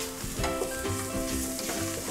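Onions and spice powders sizzle and fry in a pot while being stirred, a close, continuous crackling hiss with soft scraping from the stirring.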